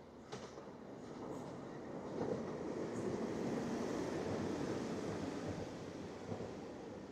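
A train passes along the railway near Chester city walls with a steady, moderately distant rolling rumble that builds slightly and then holds.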